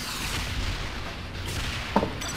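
Guided missile fire in the video game Saints Row: The Third gives a dense rumbling roar of blasts, with a short, sharper boom near the end.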